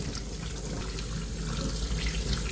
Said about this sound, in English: they are covered in mud, so you need to wash them thoroughly